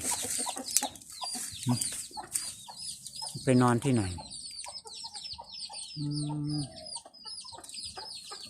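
Chickens cluck and call near their roost at dusk, with a few louder drawn-out squawks among softer clucks, while someone speaks Thai in between.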